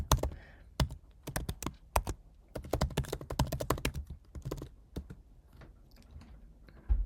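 Login details are typed on a computer keyboard, a close series of crisp key clicks in uneven bursts with short pauses, the strokes loud and distinct with no talking.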